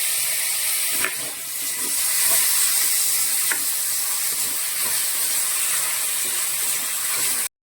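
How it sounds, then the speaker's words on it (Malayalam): Chopped tomatoes cooking with garlic-onion paste in a pan for rasam, a steady close hiss and sizzle with occasional soft stirring knocks, then an abrupt cut to silence, no voices. "നമ്മൾ അരിഞ്ഞു വെച്ചിരിക്കുന്ന തക്കാളി യോജിപ്പിച്ച് ഒന്ന് വേവിച്ചെടുക്കാം"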